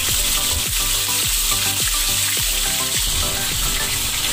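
Fish hisses and crackles in hot oil in a pan, a loud, dense, continuous sizzle with steady spattering, close up and without pause.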